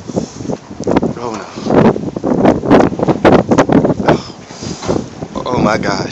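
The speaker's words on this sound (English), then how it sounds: "the wind is like -50 below zero, and it stings your face" Strong, freezing wind in a Barrow, Alaska snowstorm buffets the microphone in loud gusts, with a person exclaiming over it.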